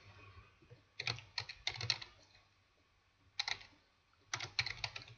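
Code typed on a computer keyboard in bursts of quick, close key clicks, separated by short quiet pauses, with no talking over it.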